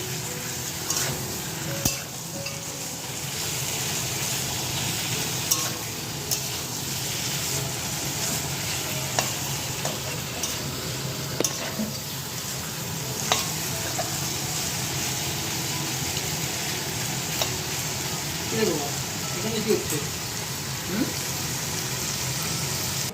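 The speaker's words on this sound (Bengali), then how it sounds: "চিকেনটা ভেজে নেব একদম আট দশ মিনিট ভেজে নিয়ে" Chicken pieces fry in a pan with ginger chicken spices, giving a steady, close sizzle with occasional scraping and stirring clicks throughout, with no talking.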